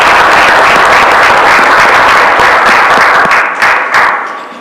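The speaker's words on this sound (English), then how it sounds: "Let's give this young man a round of applause." Audience at a board of education business meeting giving a young man a loud round of applause, with dense, steady clapping close by that thins out toward the end.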